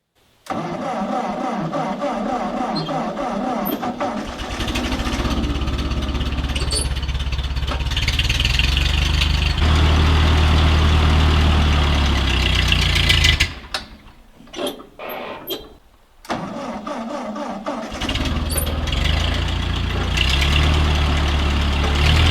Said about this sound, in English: I love this tractor and it runs real well for me